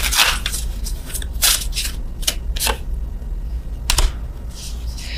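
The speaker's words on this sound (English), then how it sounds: "I'm shuffling these cards again" Tarot cards are shuffled in repeated crisp riffles and flutters, close up, with short pauses between bursts.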